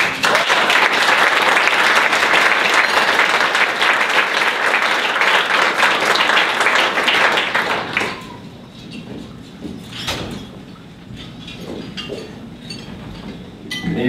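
Sustained, loud audience applause at an evening space-industry awards banquet welcomes a speaker to the stage, then thins into scattered claps and faint clinks of glasses and dishes around the room.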